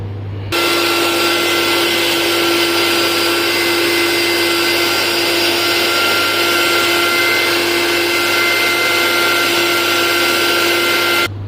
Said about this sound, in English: Then we have to grind it.